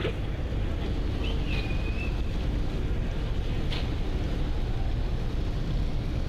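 Wind roars over the microphone as the M Khan-7 passenger launch arrives at the Barisal ghat, a continuous loud rumble of the ship and open water, with a brief faint whistle-like tone.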